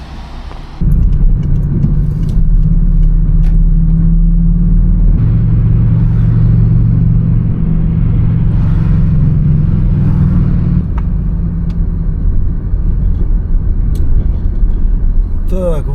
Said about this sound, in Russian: Автобусы ходят.